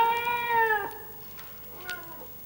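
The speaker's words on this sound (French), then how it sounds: "C'est un chat." A cat meows twice, a long clear drawn-out meow followed by a shorter, fainter one, close and alone without talk.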